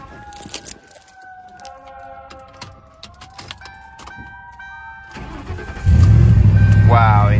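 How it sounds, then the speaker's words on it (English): A car with a dead battery, jump-charged from a cellphone charger, cranks and turns over with a sudden loud engine roar that settles into a steady idle after clicks, chimes and keys. "So let's get in and see if she starts."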